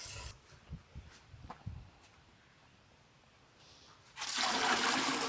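Water pours into a bucket at home, first as a few soft splashes and knocks, then as a sudden loud, steady rushing gush close by for the final second.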